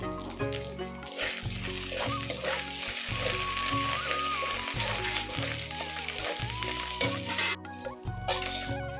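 Spice masala with cumin and chili powder sautéing in hot oil for a jackfruit curry, a steady close sizzle and frying crackle running throughout with occasional stirring scrapes, no talk.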